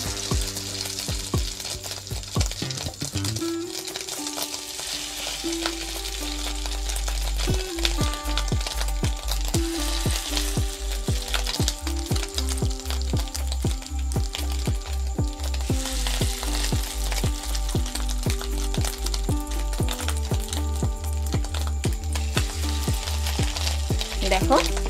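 Fish roe pakoras frying in hot oil: a steady, dense sizzle and crackle running throughout, close and loud, with a low hum underneath and occasional clinks.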